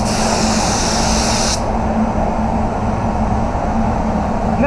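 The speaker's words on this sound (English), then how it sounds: "So this gun is definitely happy to spray at lower pressure." A steady hiss of a paint spray gun at lower pressure refinishing a Mazda CX-9, bright and airy at first, then cutting off abruptly to leave a lower, continuous rushing noise behind.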